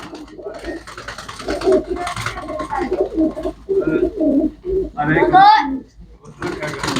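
Pigeons kept for sale by a dealer coo in low, throbbing bursts nearby, largely under someone talking steadily.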